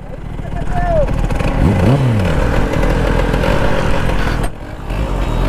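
A Kawasaki ZX-10R superbike and a scooter drag racing, engines droning loudly and continuously with a rising rev sweep midway, under excited shouting from people nearby.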